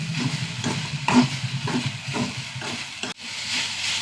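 Okra with garlic cloves is stirred and roasted in a frying pan: rhythmic scraping strokes ride over a continuous close sizzle, and a sharp clack of the utensil sounds near the end.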